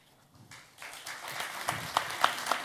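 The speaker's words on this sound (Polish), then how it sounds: "Musimy bić głośno brawa" Audience applause at a Polish award ceremony where diplomas and statuettes are handed out, starting sparse and swelling into steady clapping with a few sharp, close hand claps toward the end.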